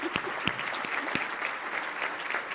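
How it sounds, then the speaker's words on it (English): Audience applause at a county government address, a steady wash of many hands clapping with a few sharper individual claps, fairly close and continuous. "Please join me in giving them a round of applause for putting up with me."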